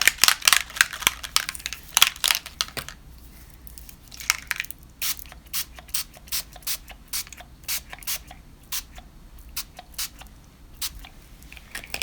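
Dina Wakley Media Gloss spray in fuchsia is spritzed through a Crafter's Workshop stencil in many quick, close, hissing bursts, clustered at first, then in a steadier rhythm of separate pumps with quiet gaps between.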